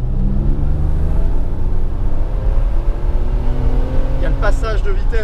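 A BMW 850i accelerates with a loud, rising engine note heard from inside the cabin and shifts up through the gearbox, the pitch climbing between changes, while a voice speaks over the engine near the end.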